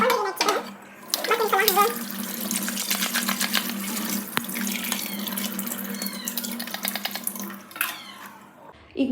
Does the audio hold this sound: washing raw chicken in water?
yes